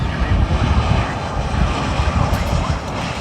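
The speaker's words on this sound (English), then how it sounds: "let's listen to how quiet this Neo engine is." A steady, loud airliner jet engine roar from an A320neo-family engine at Fort Lauderdale airport fills the whole stretch, a smooth, even rushing drone without breaks.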